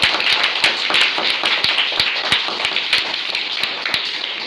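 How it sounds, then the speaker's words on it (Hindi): Applause for Ritu, a contestant on a quiz show, fills the whole stretch as a steady, loud wash of many hands clapping close by, with no voices over it. "जोरदार एक बार तालियां हो जाए ऋतु के लिए।"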